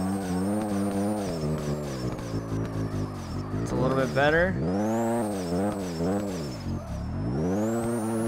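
A Mazda RX-7 drift car in a racing video game revs hard, its engine note sweeping up and down through the gears with a loud, buzzing rotary-style drone, while someone talks over it briefly.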